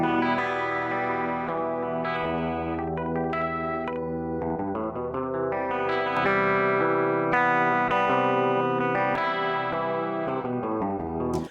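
A sustained, richly layered instrumental passage runs through a spatial chorus effect blended across three dimensions, thick, shimmering and steady for about eleven seconds, with no voices.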